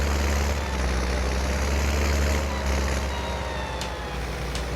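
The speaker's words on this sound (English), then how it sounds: "So we're going to go and hitch it up with the tractor, with the Deutz-Fahr." Deutz-Fahr tractor driving in Farming Simulator 19, a steady loud low engine drone with continuous rumble and no speech.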